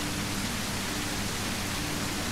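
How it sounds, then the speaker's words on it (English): Heavy rain pours in the video game Surroundead as a dense, steady hiss filling the whole moment without pause. "Jesus, it's raining hard."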